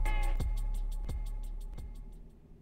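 DJ loop-out effect on a music track, a short section of beat repeating with sharp thumping hits at regular intervals as the level slowly fades, played alone without talk.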